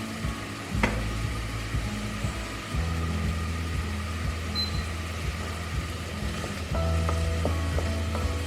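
Onion frying in a pan gives a steady close sizzle throughout. A low engine-like hum and a few stirring clatters run underneath.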